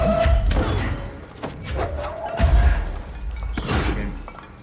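A mold host is destroyed in Control with a few heavy thudding impacts and shattering crashes, close and loud, separated by short gaps, a faint tonal hum running underneath.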